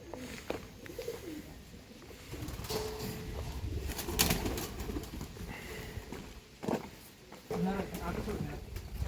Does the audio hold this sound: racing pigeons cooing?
yes